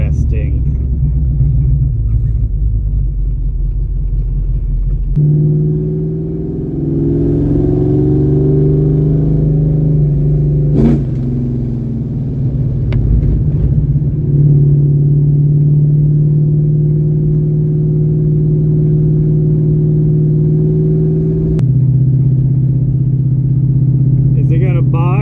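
A car engine fitted with a new Holley double pumper carburetor and mini starter rumbles at a steady idle, its pitch shifting between a few sustained levels with brief sharp clicks, loud and close, with people talking over it.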